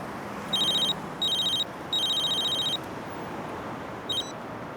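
A telephone rings in bursts of electronic trills, four separated rings of varying length, clear and close over a low background hum.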